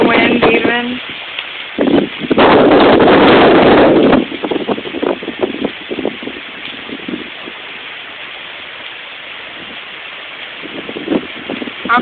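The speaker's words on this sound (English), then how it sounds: "I'm sure you can hear the wind." Hurricane Irene wind gusts roar against the microphone outside during a storm with a downed branch and flickering power, with a loud broadband burst early on before settling into a steady rushing blow.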